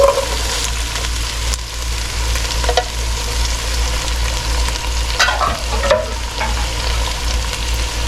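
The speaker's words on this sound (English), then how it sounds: "Now I'm going to start adding in all the veggies." Vegetables, including lima beans and corn, are stirred into a pot of sizzling onions for Brunswick stew. A steady, close frying hiss continues alone, broken by a few scraping stirs and clatters.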